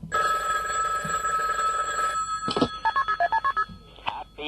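A telephone bell rings in a steady electronic trill on a radio broadcast, then stops. A short burst of rapid beeping tones follows, and faint studio noise sits between them.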